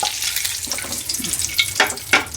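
Eggs fry in hot oil on a stove, giving a close, crackling sizzle with irregular pops and spatters that flare up toward the end.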